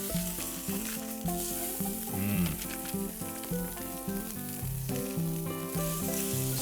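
Food sizzles and fries steadily in a hot skillet over coals at a Dutch oven cookout, a loud continuous crackle with no break.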